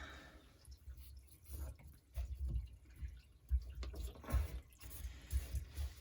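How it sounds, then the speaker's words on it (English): Water runs through a residential pipe with a steady low rush and scattered drips and trickles, fairly faint, with no one talking. "Yeah, there's water running through it."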